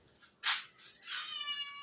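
A cat meows twice nearby, a short sharp call followed by a longer drawn-out tonal meow, against a quiet background.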